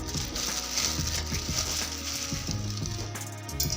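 A mixer grinder jar grinds roasted peanuts for chutney, a steady close motor whir with a rhythmic grinding rattle and no talking.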